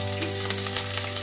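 Crushed black pepper, whole garam masala spices and four chilies hit hot oil with a dense, steady sizzle, heard briefly and close with a constant low hum underneath.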